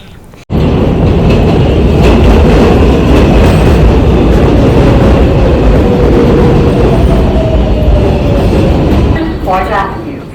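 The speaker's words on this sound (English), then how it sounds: "that was low-key the longest subway ride of my life" A subway train ride heard from inside the car: a loud, steady rumble and rattle of wheels on rails starts abruptly and holds throughout, with brief squeals near the end.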